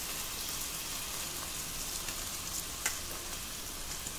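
Boiled vermicelli tipped into a pan with vegetables for veg vermicelli pulao, a soft continuous sizzle with faint scattered clicks and one small clink, no voice.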